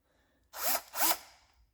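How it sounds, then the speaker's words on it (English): Two short bursts of a Bosch 12-volt cordless drill motor whirring up, each lasting about a quarter second, close by, followed by a fading hum. "We got our drill sitting over here."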